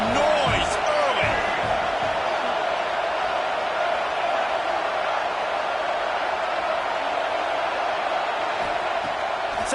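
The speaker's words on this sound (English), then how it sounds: "This crowd bringing the energy and noise early." Dense, steady stadium crowd roar from an American football video game fills the whole stretch at a constant loud level, with a few brief sharper accents near the start.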